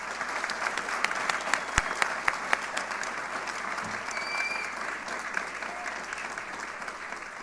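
Audience applause at a high school National Honor Society induction ceremony, sustained dense clapping from a crowd filling the room, steady and fairly loud throughout.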